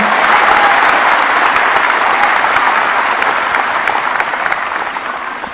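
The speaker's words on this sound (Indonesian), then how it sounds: "mari kita berikan tepuk tangan yang meriah kepada seluruh tamu dan undangan" Loud, sustained applause from an assembled crowd honoring guests and invitees at a Hanura party inauguration ceremony, filling the whole stretch and fading slightly at the end.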